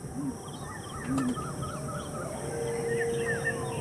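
Pigeons coo and call softly at close range, in short warbling phrases over a constant background hum, with a sharper tonal note near the end.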